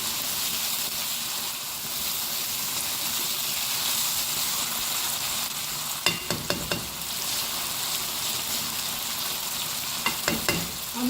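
Steady loud frying sizzle of a mixture in a pan over high heat as dried coriander is stirred in, with a few sharp scraping clicks of the spoon against the pan.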